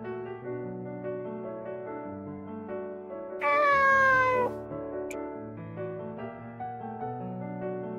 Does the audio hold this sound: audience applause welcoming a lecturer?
no